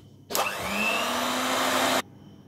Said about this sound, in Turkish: şimdi karıştırmak istiyorum ve mikserle